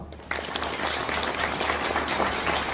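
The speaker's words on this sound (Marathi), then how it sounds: "सगळ्यांनी एकदा जोरात टाळ्या वाजवा" A crowd at a BJP political rally breaks into loud, sustained clapping that starts abruptly and continues dense and even to the end.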